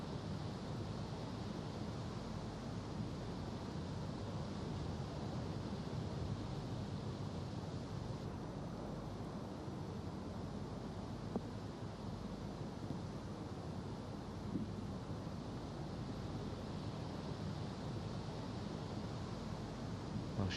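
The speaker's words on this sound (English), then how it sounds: "Gusting up to 35 miles per hour now." Strong gusting wind sweeps across an open golf course during a women's amateur championship final, a constant broadband roar buffeting the microphone with slight surges, and no voices.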